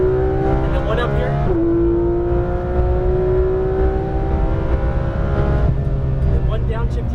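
An exotic sports car engine on a race track, heard from inside under light throttle: a loud, steady droning hum that shifts pitch and rises again as the car eases onto the power, with no talk.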